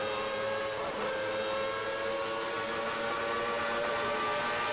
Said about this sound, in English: I'm going to go on board so I can hear his engine.